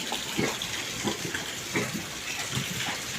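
Water rushing from an opened faucet into a third-floor drainage pipe during a repair, a steady loud gushing with faint gurgles and no speech.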